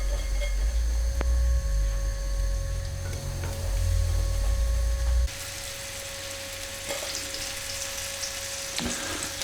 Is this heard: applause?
no